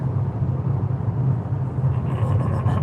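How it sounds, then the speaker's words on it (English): A Mazda 6e rolling over a concrete road surface produces a loud, steady low tyre roar inside the cabin, a constant droning rumble without breaks and with no voices over it. "ตอนนี้เราอยู่ที่ถนนคอนกรีตนะครับใกล้ๆ Falkenberg แล้วก็เราก็ได้ยินเสียงว่ามันก็เสียงดังเลยนะครับ"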